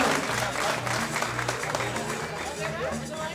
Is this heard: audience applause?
yes